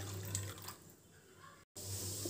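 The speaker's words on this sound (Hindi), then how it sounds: "आलू बॉईल करने के लिए हम सबसे पहले इसमें ऐड करेंगे पानी।" Water runs from a tap into a pot for boiling potatoes, a soft steady splashing trickle that continues briefly, drops out for a moment, then resumes.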